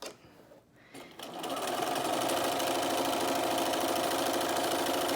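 A sewing machine stitches a fabric face mask, starting after a brief pause with a soft mechanical whir. It then settles into a loud, steady, continuous hum that carries on to the end, close and with no talk over it.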